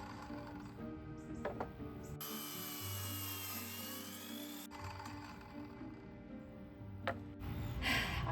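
A power saw cutting scrap plywood. A whining cut runs for a couple of seconds, with quieter whirring and handling noise before and after it.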